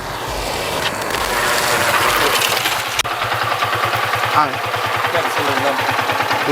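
A vehicle engine idles steadily and close by, a continuous low mechanical rumble with rattly pulsing, while people talk over it outdoors.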